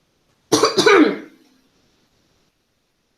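A teacher coughs several times in quick succession during a surveying lecture on horizontal curves, close and fairly loud, then silence follows.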